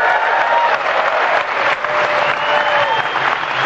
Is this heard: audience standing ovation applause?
yes